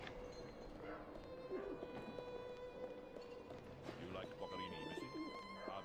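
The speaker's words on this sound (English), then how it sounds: "there's like little pigeons I can hear" Little pigeons coo in the city of the game Alice: Madness Returns, soft repeated calls set within a busy layer of game ambience and music.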